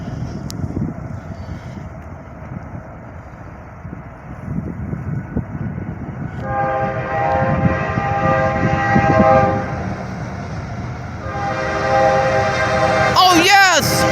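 At Cherry Street, a train rumbles past steadily while its horn sounds in long, loud tonal blasts, first partway through and again near the end, followed by a screeching squeal.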